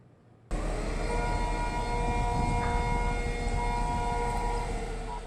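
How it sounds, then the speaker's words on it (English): A steady, wailing air raid civil defense siren drones continuously from a distance during military drills in Taiwan, starting abruptly and holding a sustained tone with faint background rumble. "When you hear that siren, it means seek shelter."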